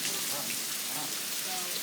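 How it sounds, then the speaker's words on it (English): Very heavy rain pours down during a severe thunderstorm with high winds, a loud, unbroken hiss of drops drumming on surfaces close by. "The rain is just coming down so frequently."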